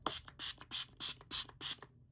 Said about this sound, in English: It's a hydrating setting spray.